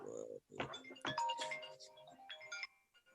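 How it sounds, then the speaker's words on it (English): A phone ringtone sounds for an incoming call, a short melodic ringing pattern that repeats over about three seconds, clear and fairly close. "Oh, phone call."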